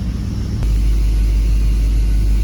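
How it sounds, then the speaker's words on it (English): A truck engine with a TBI fuel injection system idles in gear after a computer swap, a steady, smooth low rumble heard up close and alone, settling into an even drone after a brief shift near the start. "Got it idling in gear here, and it is running"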